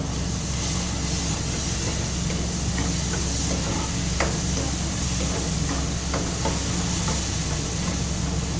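Spice masala with coriander powder and salt fries in a pan, giving a continuous, even hiss and sizzle up close, with faint stirring scrapes now and then.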